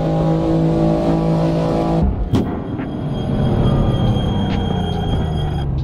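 A BMW M2 in a racing video game roars loudly with a steady engine tone, then drops abruptly around the midpoint into a lower, rumbling deceleration as it brakes hard, engine noise continuing beneath.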